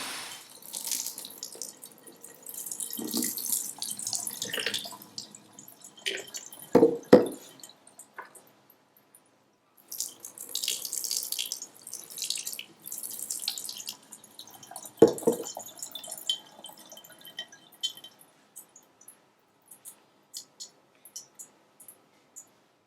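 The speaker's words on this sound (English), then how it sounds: "Just doing another rinse." Tap water runs in bursts over bean sprouts in a mason jar, splashing and draining in two main rinses with dripping and sloshing between them and short quiet gaps, close by with no talk.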